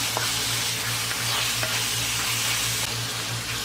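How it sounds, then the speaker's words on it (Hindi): Mutton mince sizzles and fries steadily in a hot pan as it is roasted until its liquid cooks off. The loud, continuous crackle carries on alone with no talking. "अब इसको हम अच्छी तरह से भुनेंगे जब तक इसके पानी ड्राई ना हो जाए।"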